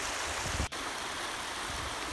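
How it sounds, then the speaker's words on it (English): River water trickles and rushes steadily under ice forming over a cold winter river on a farm, a constant close broadband flow with one brief dip in the middle. "it's beginning to trickle slower through the ice."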